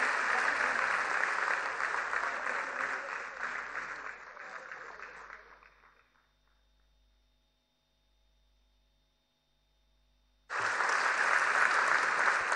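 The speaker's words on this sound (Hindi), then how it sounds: "जोरदार तालियां होनी चाहिए।" Loud, sustained applause from an audience at a Varanasi women's empowerment program honoring a Bharatanatyam dance group, fading out around six seconds, falling to near silence with a faint hum, then bursting back in full at about ten seconds.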